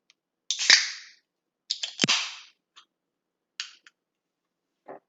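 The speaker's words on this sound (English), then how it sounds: "I'm going to open up the Pepsi." A plastic Pepsi soda bottle is twisted open, giving a few sharp cracking snaps from the cap and short fizzing hisses of escaping gas, close and otherwise quiet.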